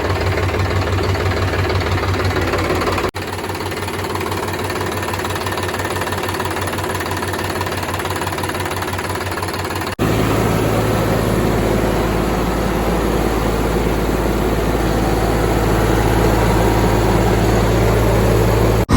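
A freshly serviced Red Horse tractor engine runs loud and close with a steady, chugging mechanical drone. It picks up noticeably as the throttle opens partway through and holds the higher revs to the end.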